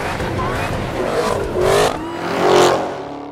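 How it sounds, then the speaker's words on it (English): A supercharged production-car engine fitted with an enormous supercharger revs hard, its whine climbing in two rising surges over a steady engine drone. "you get to enjoy a maniacal supercharger scream"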